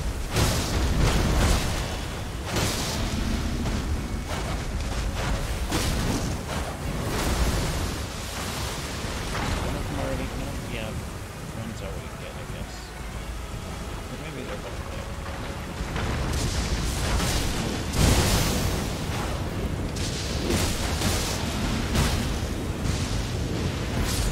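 Enemies shooting fire in Elden Ring: repeated roaring bursts and booming blasts that surge loud, ease into a lower rumbling stretch midway, then flare up again near the end, with no voices.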